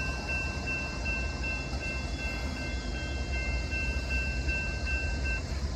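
A southbound CSX mixed manifest freight train rolls past on track two with a steady, continuous rumble of cars and wheels. Faint sustained high tones ride over the noise throughout, with no voices.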